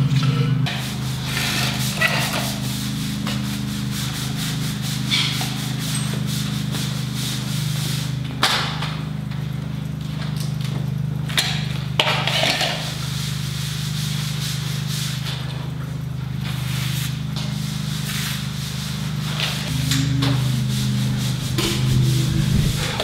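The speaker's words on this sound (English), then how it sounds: "I actually keep a wet rag with me, and it actually helps wiping it and smoothing it out" A wet rag wipes and smooths filler over saw cuts and cracks in a floor being prepped for epoxy, giving soft continuous rubbing strokes close up over a steady low hum.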